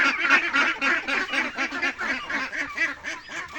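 Several wet farm ducks call together in a busy, overlapping run of loud nasal honks and quacks, close by and continuing without pause.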